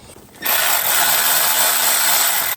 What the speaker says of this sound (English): now I'm going to tighten the bolts for the starter motor